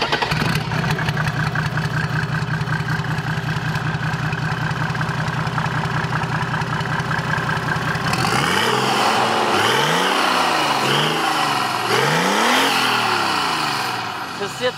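A warm youngtimer car engine, already at operating temperature, starts and settles into a steady idle, then is revved repeatedly in rising and falling sweeps, loud and close throughout.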